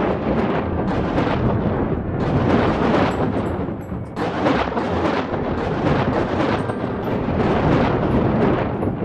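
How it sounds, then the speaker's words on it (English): Lightning and thunder in the video game WorldBox roll on as a dense, continuous rumbling roar with repeated louder cracks, loud and steady throughout with no talking. "God damn, when is this lightning going to stop?"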